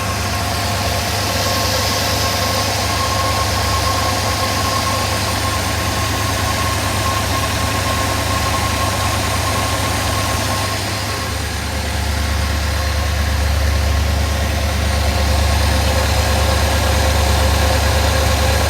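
A 1956 Ford Thunderbird engine idles steadily on old fuel, a continuous loud low rumble with slight unevenness that thickens a little partway through, with no voices.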